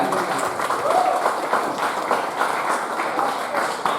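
Audience applause at an Al-Khairiyah institution inauguration ceremony, a dense, steady wash of clapping held at an even level for the whole stretch, with voices murmuring faintly beneath it.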